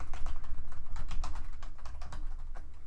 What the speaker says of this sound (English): we can go ahead and type background